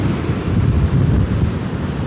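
Ocean waves at Nags Head beach, North Carolina, make a loud, continuous rumbling wash of surf with heavy wind buffeting close to the microphone.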